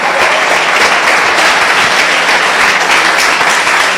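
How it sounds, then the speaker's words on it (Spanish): A crowd at a church evangelization presentation in Mexico claps loudly and steadily, a dense, continuous applause with no voices standing out. "Un aplauso, aquí están con nosotros"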